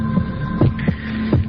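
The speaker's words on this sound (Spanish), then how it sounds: "Latidos de corazón" A heartbeat thumps in slow, paired beats, about three close, muffled double pulses over a steady low hum.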